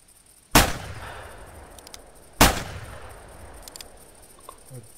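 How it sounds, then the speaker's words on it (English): Two sharp revolver shots at a 50 meter outdoor shooting range, about two seconds apart, each a loud crack followed by a rolling echo that tails off, with no talking. "because you have to cock the gun after each shot"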